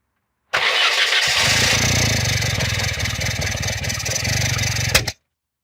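A Skoda Favorit-family Forman estate engine catches and runs loudly and close, a steady rough mid-pitched idle with a brief rev near the end before cutting off, no talk over it.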